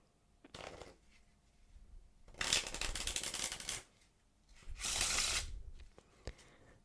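Playing cards shuffled for a card magic trick, a brief riffle followed by two longer, loud bursts of rapid fluttering card riffles, up close with quiet pauses and small taps in between.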